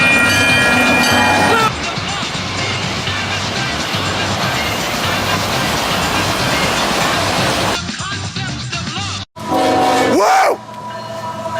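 Loud, sustained horn blasts from a passing Seattle Sounder commuter or Amtrak train, ringing over heavy rumbling rail noise, then cutting off abruptly before a brief final honk.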